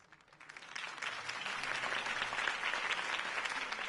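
Steady applause from a crowd at a political campaign speech in the Telltale Batman game swells in over the first second and continues at an even level to the end.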